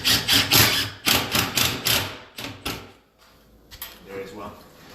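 A screw is driven into an upper kitchen cabinet during installation. Close, loud rhythmic pulses of driving run for about three seconds, then stop abruptly, followed by a few softer knocks.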